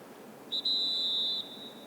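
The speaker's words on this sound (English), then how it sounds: "We got a whistle here." A referee's whistle at a high school boys soccer match gives one short chirp, then a sustained shrill blast of about a second, fairly clear over quiet crowd ambience.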